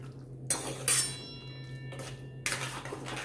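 Jaggery is stirred into ganthiya curry in a pot, with a spoon clinking and scraping against the metal in a few short, close strokes over a low steady hum from the stove.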